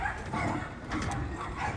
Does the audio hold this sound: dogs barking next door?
yes